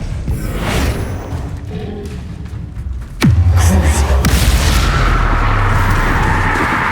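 Blasting spell explosion in the video game Hogwarts Legacy: a sharp magical crack followed by a heavy booming blast and a sustained rumbling roar, loud and close, after a quieter stretch of game ambience.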